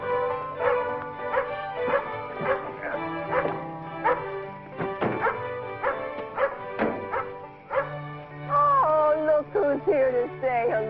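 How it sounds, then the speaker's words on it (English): A dog barks in repeated sharp bursts and whimpers in between, close and loud, with faint talk mixed in. "Talk to that dog."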